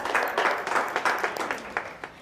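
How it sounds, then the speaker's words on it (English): Brief, fairly faint applause from a small crowd at a 4-H livestock show, scattered claps tapering off after a couple of seconds. "Exhibitors a round of applause"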